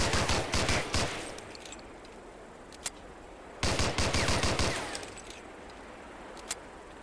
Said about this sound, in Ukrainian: Стійте на місці та стріляйте чергами, аби збільшити влучність.